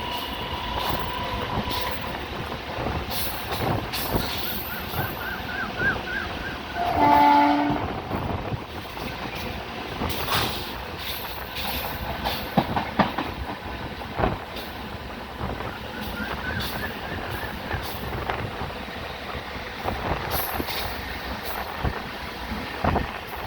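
A train passing through a new signal cabin area, with a steady rumble of wagons, some clattering and a brief horn, heard from nearby.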